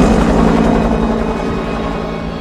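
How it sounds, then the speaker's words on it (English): Helicopters fly in the 1998 film The Siege, a loud, continuous rotor drone that stays steady throughout, with no talking. "you'll see the helicopters are already moving out"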